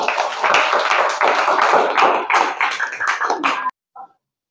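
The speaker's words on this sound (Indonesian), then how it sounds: "Berikan tepuk tangan untuk kelompok 2" Students in a junior high classroom clap for a presenting group, a dense burst of hand claps lasting a few seconds that stops abruptly, followed by a brief faint sound.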